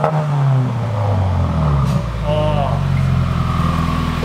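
A Subaru WRX with a custom exhaust revs with a deep, throaty drone that holds steady and loud for a few seconds, with people talking over it.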